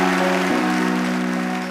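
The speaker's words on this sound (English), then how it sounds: "a big round of applause for Truro" Applause from an audience at a school choir semi-final fills the space as a steady, even hiss of distant clapping, with a sustained low tone underneath throughout.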